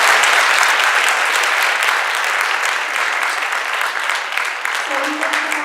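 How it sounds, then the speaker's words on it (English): Loud, close applause fills the room at a spring choir concert, a dense burst of clapping that eases a little, with a faint tone creeping in near the end. "I'd like to give them a round of applause for it"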